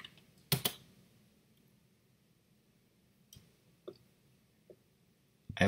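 A few scattered computer keyboard keystrokes and mouse clicks sound close but faint in a quiet room, with two quick taps near the start, sparse single clicks after, and a final click at the end, without talking.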